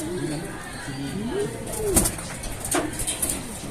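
Soft, rounded cooing from a bird repeats in low calls, close by, with people talking and faint clicks around it.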